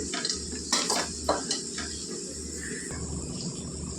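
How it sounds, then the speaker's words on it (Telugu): Chopped onions frying in a pan for poha, with a soft steady sizzle and a few metallic scrapes and clinks of a spoon stirring, close and without talk. "ఉల్లిపాయలు కొద్దిగా బాగా వేగితేనే బాగుంటాయండి"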